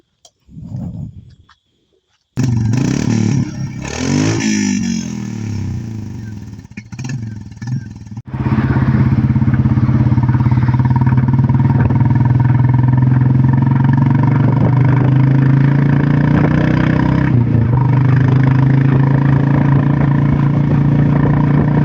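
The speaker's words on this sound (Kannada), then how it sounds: "ಇದ್ರದ್ದು ಎಕ್ಸಾಸ್ಟ್ ನೋಟ್ ಕೇಳೋಣ" A Royal Enfield Classic 350 motorcycle sits at idle, then its engine starts after a brief quiet and settles into a loud, steady, thumping single-cylinder exhaust note heard up close.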